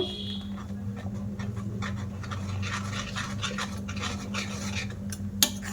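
A mango pudding mixture with gelatin stirred in a bowl: steady, continuous scraping and swishing from a utensil against the bowl, close up, over a low constant hum, ending with a small knock.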